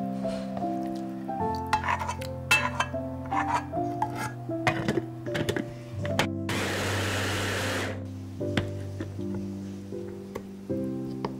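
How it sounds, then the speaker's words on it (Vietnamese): A blender grinds a cooked dipping sauce mixture in steady pulses, its motor humming and changing pitch between bursts, with a loud, harsh stretch of full-power whirring in the middle, close and alone. "mình chờ nguội một chút rồi mình cho tất cả vào cối để xay mịn hỗn hợp"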